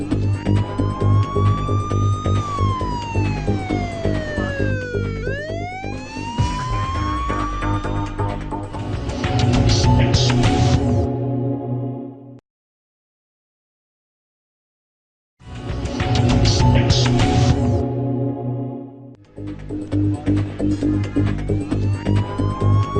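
An Edhi ambulance siren blares through Lahore traffic, loud and near: a long sweeping wail breaks into a rapid yelp, cuts out to silence for a few seconds, then resumes with steady warbling under faint road noise.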